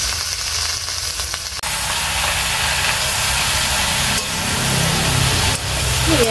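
Loud, steady sizzling hiss of spinach leaves hitting a hot oily pan with potatoes, close and continuous, with a few small crackles.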